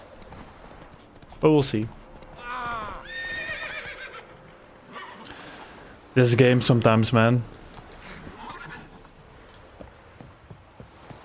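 A horse in The Witcher 3 video game gives two loud whinnies amid clip-clopping hooves, with someone talking over the sounds.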